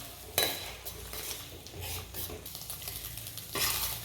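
Eggs fry in hot oil left over from frying prawns, with a steady close sizzle under repeated scraping and clinking of a utensil stirring against the pan.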